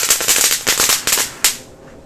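Firecrackers, including dino-egg crackers, burst in a metal wok in a quick, loud crackling string of pops, then a final sharp bang before the noise trails off, with no voices.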